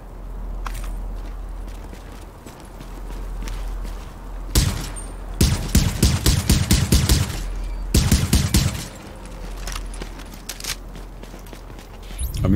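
Rifle gunfire in the video game The Division, coming in two dense rapid bursts of loud shots separated by quieter stretches, with no talk over the shooting.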